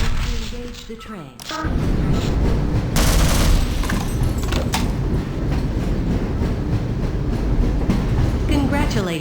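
A train in the Half-Life Hazard Course gets underway with a sudden loud rumble that holds steady, with a rhythmic rattling clatter over continuous mechanical noise.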